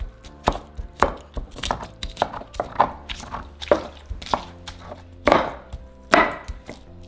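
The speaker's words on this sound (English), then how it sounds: "in our molcajete, we're going to smash our chiles, 3 garlic cloves" Chiles and garlic cloves smashed in a stone molcajete for beef enchilada chile paste: a steady run of sharp, close pounding thuds and crushing knocks, about one or two a second, with wet squishing between blows and no talk.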